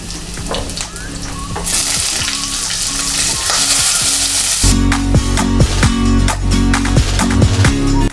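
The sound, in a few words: onion, garlic and spices frying in a pan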